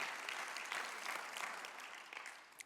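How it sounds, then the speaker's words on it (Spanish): Church congregation applauding during a Spanish-language sermon, a steady wash of many hands clapping at moderate distance, sustained and even throughout with no voices standing out. "Dale un aplauso a Jesús en esta hora"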